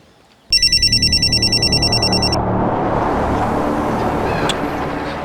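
A telephone rings with a rapid repeating electronic trill for about two seconds, followed by a loud rising engine-like roar filling the rest.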